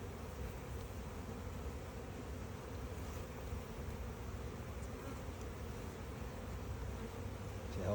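Honey bees buzz in a continuous low drone during a beehive inspection, a dense, steady hum from a healthy colony that sits close and even throughout, with no talking.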